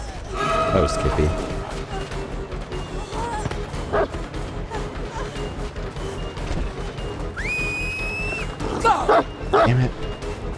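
A dog in the Dead by Daylight video game barking and yipping in short bursts, mixed with game effects and a rising electronic tone, under people talking.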